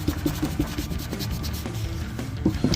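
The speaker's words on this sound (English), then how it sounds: "All these areas in between the welds. Gotta make sure it's all sanded." Close rhythmic rubbing strokes of sanding on a welded metal tank, scratchy back-and-forth passes repeating quickly with no talking.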